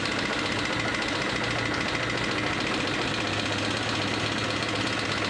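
Suzuki RF900 motorcycle engine running without the choke, a steady, loud, continuous mid-range drone with a rough, knocking texture throughout and no talk.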